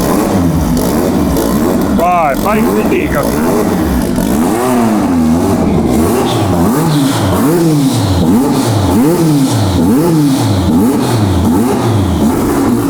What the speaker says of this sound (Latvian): Tāds motors ir, turbīna ir būtībā 500 zirgiem.